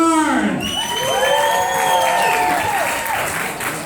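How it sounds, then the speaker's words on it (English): Audience applause and cheering fill a comedy show at Heaven & Hell, a steady, loud crowd ovation with whoops as the next comic is introduced. "Ladies and gentlemen, clap for Bernard Bernard"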